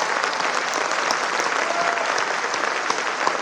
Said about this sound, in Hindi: इतनी तालियों से नहीं होगी साहब,